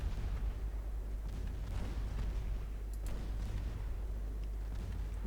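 Naval gunfire from warships in the Ultimate Admiral Dreadnoughts game, a 1959 Chinese fleet firing its last main-gun HE rounds, heard as a steady low rumble with a few dull booms and sharp cracks, moderately loud and without speech.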